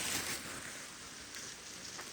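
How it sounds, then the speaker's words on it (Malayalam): A steady hiss of rain falls continuously at Kakkayam Dam, fairly quiet and even, with no voices. "നല്ല മഴ പെയ്യുന്നുണ്ട്."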